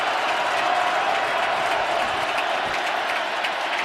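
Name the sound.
football stadium crowd cheering at Ravens game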